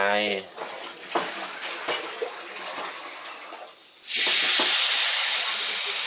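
Tamarind water poured into a hot pan, hissing and sizzling loudly after a brief pause, with faint handling sounds and voice beforehand.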